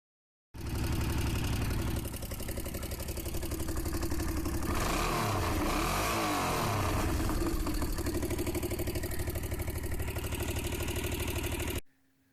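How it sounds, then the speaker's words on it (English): A budget Honda VT500 Ascot motorcycle engine runs close by, a loud, steady mid-pitched idle with a throttle blip swelling and falling back around the middle, continuing unbroken until it cuts off near the end. "The engine runs great. I got a video, I'll show you right now."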